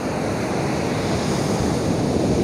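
Waves washing onto a beach in Phuket, Thailand, a constant rushing surf close by with wind buffeting the microphone, loud and steady with no voices.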